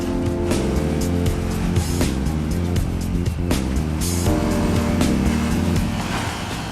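A motorcycle engine revs hard during a wheelie attempt at a motor festival, loud repeated throttle blips and roaring climbs over a rumbling low drone, close by, with no talk.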